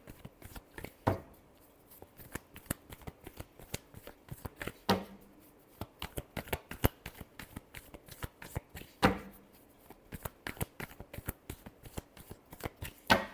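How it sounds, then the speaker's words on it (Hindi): Tarot cards are riffled and shuffled by hand in a quiet room, with soft, rapid flicking and slapping bursts recurring every few seconds and a few sharper snaps between them. "Last shuffle."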